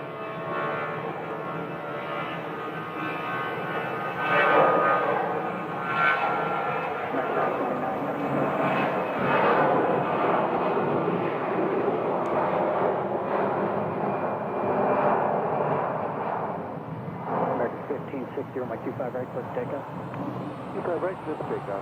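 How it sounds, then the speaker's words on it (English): A Breeze Airways jet airliner departs Phoenix Sky Harbor airport, a steady, broad roar of jet engines at moderate distance that swells and holds throughout, with a voice talking over it. "Moxie 535 is departing for Richmond, Virginia, another cross-country flight."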